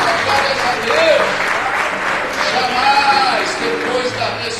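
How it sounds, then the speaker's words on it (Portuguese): Church congregation applauds loudly and continuously, a dense roar of clapping filling the hall with faint voices mixed in. "Dá um aplauso dele para ele."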